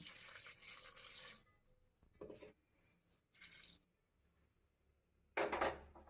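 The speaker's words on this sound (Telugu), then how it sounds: "ఇందులో కొంచెం నీళ్ళు పోసుకోవాలి." Water poured into a pan of jaggery for making murmura laddu, heard as short splashing bursts separated by quiet gaps, fairly faint and close, with no talking.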